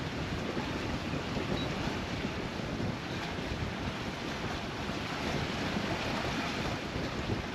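A sailboat moves at about five knots in an eleven-knot wind off Martinique. Steady wind buffets the microphone over a constant rush of waves and water along the hull, with no break and no talk.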